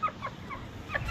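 Hen and rooster clucking inside a cage, a few short close clucks repeated in quick succession over low background rumble.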